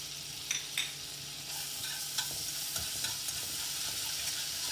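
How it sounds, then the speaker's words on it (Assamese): Garlic and ginger paste is stirred in butter in a hot pan, a steady, close sizzle broken by light scraping strokes and small taps of a spoon. "এইখিনি ইয়াতে মিলাই দি অকণমান লৰাই দিম।"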